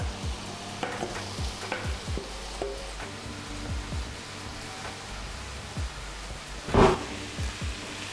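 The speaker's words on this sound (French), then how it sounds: "On verse l'élément liquide dans la farine, on mélange avec la spatule pour démarrer" Liquid and flour for pizza dough are worked together in a bowl with a spatula, soft repeated scraping and thudding strokes, close and fairly quiet, with one louder knock near the end.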